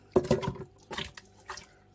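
Water poured and drained from a pot of cooked lamb bourgogne made in a pressure cooker, with splashy bursts in three short clusters, close and moderately loud.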